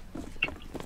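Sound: chicken clucking in video game CS:GO

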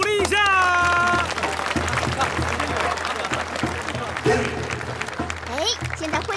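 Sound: audience applause

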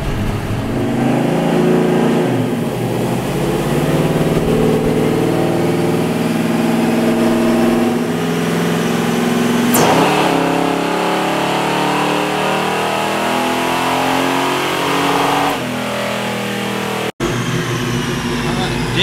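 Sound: supercharged donk car engine revving at street race

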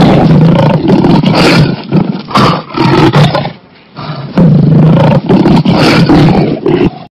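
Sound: lion roaring

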